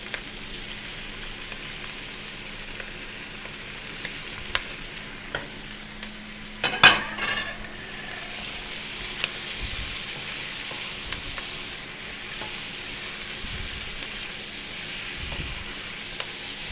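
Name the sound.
streaky bacon frying in a pan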